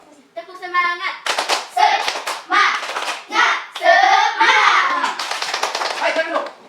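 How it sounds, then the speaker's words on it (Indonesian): Schoolchildren in a classroom perform a rhythmic spirit clap, sharp bursts of patterned clapping punctuating loud, chanted children's voices that ring out alongside the beats throughout. "Tepuk semangat."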